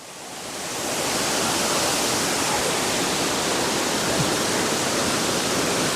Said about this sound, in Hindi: ये छोटा सा नल चल रहा है।